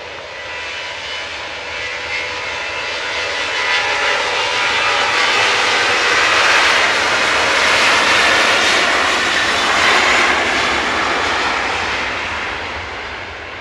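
A jet aircraft at Manchester Airport roars loudly and steadily, its engine noise swelling and then fading over several seconds as it passes, with no voices.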